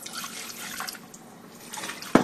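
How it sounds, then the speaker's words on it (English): Someone pours a cup of water into a pan while cooking lima beans, making a steady, moderate splashing pour that ends in a short, sharper splash. "Add 1 cup water"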